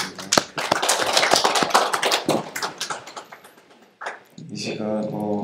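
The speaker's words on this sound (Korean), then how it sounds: "하나님께 영광의 박수 올려드리겠습니다." A youth congregation claps during a Sunday worship service: a brisk burst of scattered, close claps thins out over about three seconds, followed by softer voices and music.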